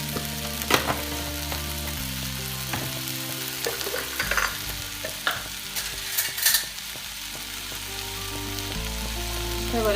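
Egg filling for a sandwich sautéing in a pan, spoon stirring and scraping through it in irregular strokes over a steady low sizzle, with a few sharper clinks of utensil on pan near the middle.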